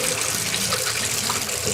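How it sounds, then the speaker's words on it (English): Water drained off potatoes, a continuous close gush pouring into a kitchen sink for the whole stretch, loud and even, with no talking. "I'm going to drain the water."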